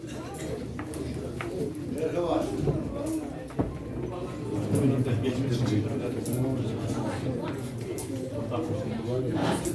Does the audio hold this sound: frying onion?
no